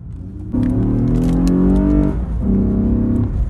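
A 2014 Lexus IS 250 F-Sport fitted with an aftermarket air intake pulls away on a small street, its engine rising in pitch through one gear, easing, then climbing again; close and fairly loud, no talk.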